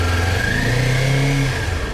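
A new 2023 Kawasaki Ninja 400 motorcycle engine revs loudly and close up, climbing in pitch over about two seconds and then settling back.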